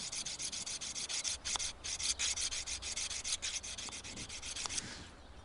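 Hoof knife blade honed gently on a steel, a quick run of close, light rasping strokes in steady rhythm, fading at the end.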